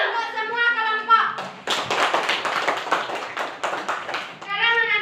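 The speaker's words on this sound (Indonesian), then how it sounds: "kita berikan tepuk tangan untuk semua kelompok" A children's class claps together for every group, a quick burst of close, rhythmic hand claps lasting a few seconds between stretches of a teacher and kids speaking.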